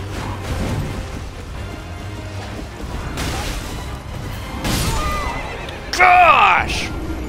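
A horse whinnies sharply near the end, after several thuds and impacts amid Elden Ring game noise, with a voice speaking over parts of it.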